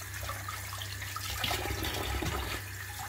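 Oyster mushrooms get a quick rinse under a running kitchen tap, a soft steady stream of water splashing for a few seconds, fairly quiet and without talk.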